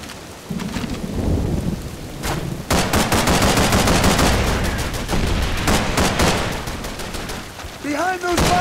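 Gunfire in the Call of Duty 3 video game, dense rapid shots and bursts over heavy rumbling battle noise, loud and continuous, with a brief shouted voice near the end.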